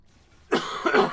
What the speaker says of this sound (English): On top of that, I still keep coughing.